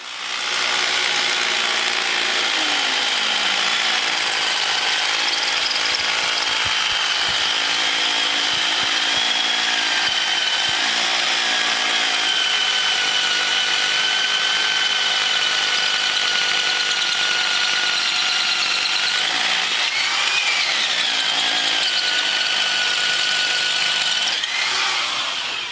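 Power drill boring a second hole for lathe mounting feet, a steady whining drone that runs loud and unbroken for the whole stretch, its pitch dipping briefly near the end.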